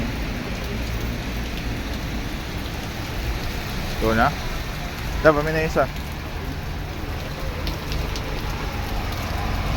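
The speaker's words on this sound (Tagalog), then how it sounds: "Ulan." Steady rain hisses throughout on Session Road in Baguio, with a couple of voices speaking briefly in the middle over the downpour.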